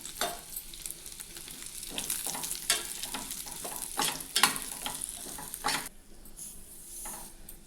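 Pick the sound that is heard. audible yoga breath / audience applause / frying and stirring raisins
frying and stirring raisins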